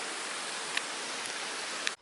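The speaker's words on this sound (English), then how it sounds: "the soothing sound of water, little waterfalls" Water spills over little waterfalls in a country park, a steady broadband rushing hiss, close and even, briefly cut off at the end.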